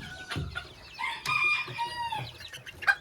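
A barred carijó rooster and hens in a farmyard coop, with a rooster's crow rising over several nearby clucks and squawks, loud and close, no talking.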